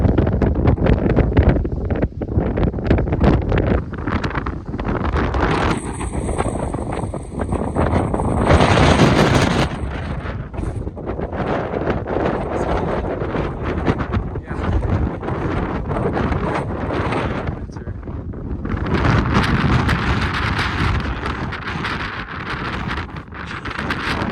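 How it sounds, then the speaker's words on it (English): Strong wind gusts up to 78 mph on foggy Mount Blue Sky, a Colorado fourteener, buffet the microphone in loud, roaring gusts that surge and ease throughout, with no voices. "78 mile per hour wind gusts were measured."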